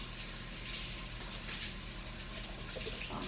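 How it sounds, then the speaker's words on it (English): Water runs steadily from a kitchen tap as a KitchenAid mixer part is rinsed in the sink while baking banana bread. The hiss is close, even and unbroken throughout. "So I'm gonna rinse this off and put it in the sink to wash"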